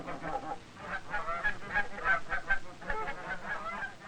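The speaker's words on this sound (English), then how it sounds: "Even the ducks seem to know when their feeding time is at hand." Farm ducks and geese at feeding time in a 1970s German farm town, a flock honking and quacking steadily at close range with overlapping calls and no voices.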